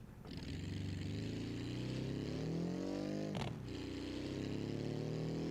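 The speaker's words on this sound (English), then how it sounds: "I love the crackle on this exhaust today" Steady car engine drone from a BeamNG.drive vehicle with a crackling exhaust, holding a roaring note throughout with a brief sharp burst or pop near the middle, loud and close with no talking.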